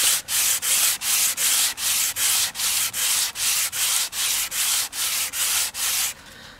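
Rhythmic back-and-forth scraping of a sanding block on a Fender Telecaster's wooden guitar body, about fourteen even strokes, loud and close, with no talking.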